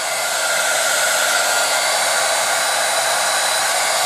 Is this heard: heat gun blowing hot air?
yes